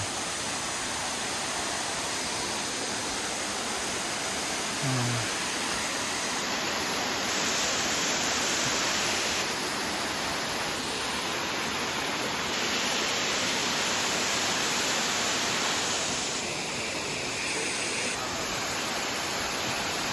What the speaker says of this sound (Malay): Tengok suasana air terjun pesun